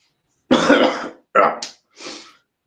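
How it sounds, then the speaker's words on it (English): Three harsh allergy coughs close up, the first longest and loudest, the last weaker, with brief silences between. "if you've noticed me coughing, I've kind of still, got some allergies going on"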